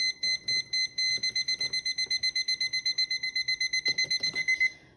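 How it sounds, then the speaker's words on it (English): A liquid level indicator on an Uccello tipping kettle beeps as tea is poured, a long run of rapid, evenly spaced high electronic beeps that stops abruptly at the end. "we're just going to pour until the liquid level indicator goes off"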